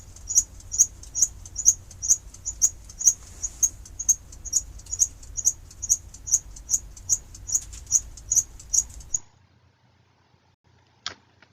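Crickets and mice leaping about inside a cave: a regular train of sharp, high chirping clicks about twice a second for nine seconds over a low rumble, then near silence broken by one faint click.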